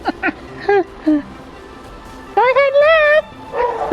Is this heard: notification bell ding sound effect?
no